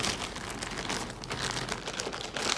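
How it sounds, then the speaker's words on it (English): Crinkling of plastic packaging around a craft project being handled, a dense continuous rustle that stays close and fairly loud throughout with no talking. "Yes, I have crinkling."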